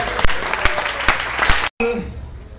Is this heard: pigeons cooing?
no